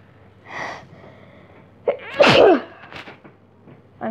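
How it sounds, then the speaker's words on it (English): A single loud, sharp sneeze bursts out mid-clip, preceded by a faint intake of breath and followed by a few short voiced sounds and breaths, recorded close up. "I'm sneezing"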